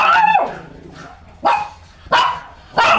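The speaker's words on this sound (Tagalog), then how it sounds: "ayan na naman ang aking aso" A dog barks loudly nearby, a drawn-out yelp followed by three sharp barks spaced about a second apart.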